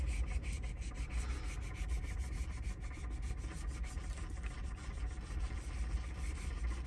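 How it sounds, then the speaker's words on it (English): Motorized cup turner rotating a tumbler at a crafting table: a faint, continuous low rumbling hum with soft rubbing texture, steady and unbroken throughout. "You can hear the cup turning over there in the side."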